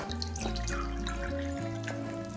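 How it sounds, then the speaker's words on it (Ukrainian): Tap water is poured into drinking glasses, making a steady, close running-water sound with small splashes and drips and no voices. "Спочатку наліємо 2 стакани звичайної води з-під крану."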